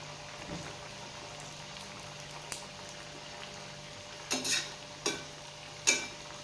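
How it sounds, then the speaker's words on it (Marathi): Thin slices of dal batti deep-frying in hot oil give a faint, steady bubbling hiss, broken near the end by a few sharp louder bursts of sizzle and clatter. "आता आपण ही दुसरी बॅच देखील तशीच तळून घेऊया."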